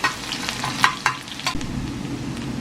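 Chopped onions frying in a pan with cloves, fenugreek seeds and green chillies, a soft sizzle broken by sharp clinks and scrapes of a spoon stirring, close and without speech.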